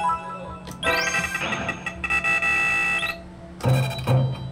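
A broken bounty bingo arcade machine gives off loud, warbling electronic beeps and rising tones for about three seconds, then a pause and two short, sharp beeps.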